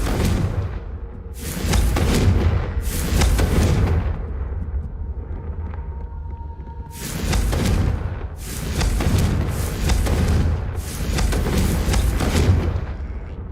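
Confringo blasting spell cast in the video game Hogwarts Legacy, giving repeated loud broadband blasts in two clusters with a brief quieter gap between them, booming and close over a steady low rumble.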